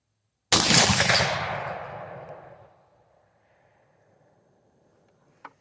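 An 8mm Mauser rifle loaded with cast bullets fires a single loud, sharp shot outdoors. A long rolling echo fades over about two seconds, followed by quiet and a faint click at the end.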